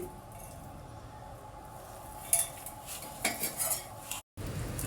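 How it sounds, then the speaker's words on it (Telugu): A spoon stirs a yogurt mixture in a bowl, making soft, quiet scraping and a few light clinks against the sides, close up and with no talking. "ఇదంతా బాగా కలిపేసుకుందాము. ఇంకొద్దిగా పెరుగు వేసుకుంటున్నాను."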